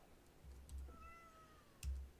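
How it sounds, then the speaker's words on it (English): A house cat meows softly a couple of times, a drawn-out rising-and-falling call followed by a short one, heard fairly close in a quiet room with faint keyboard clicks. "Shout out to the cat."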